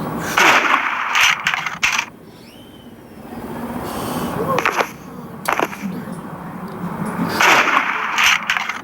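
Gunfire in the cops-and-robbers video game Justice Rivals 3, a few sharp shots in bursts near the start and end with a quieter stretch between, heard over game ambience and some talk.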